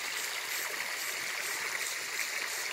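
Fresh water flowing steadily into a forest watering pond for wildlife at Shankarnarayana, a continuous broad rushing wash like a small stream, close and even throughout with no talk.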